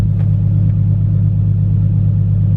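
A BMW E34 with an M50 engine idles nearby, producing a loud, steady low rumble with an even, smooth hum and no talking.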